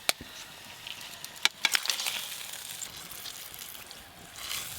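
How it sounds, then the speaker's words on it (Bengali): Fried tilapia pieces dropped into a simmering spicy curry with freshly added water, a few sharp splashes and clinks, then a soft steady bubbling and sizzle close by. "এবার ভেজে রাখা তেলাপিয়া মাছগুলোও দিয়ে দেব।"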